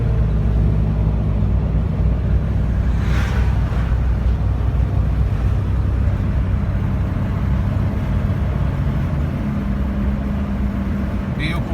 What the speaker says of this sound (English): So we'll go ahead and get to our test drive.